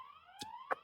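An outdoor alarm triggered by cats and dogs wails faintly from a distance, a rising electronic siren tone with a few brief clicks or knocks over it.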